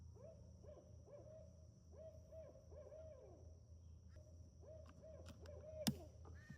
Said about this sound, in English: There's an owl.